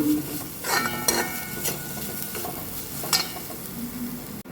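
Steady sizzling of dried chillies frying in a pan, with several scraping stirs and light clinks of a utensil against metal.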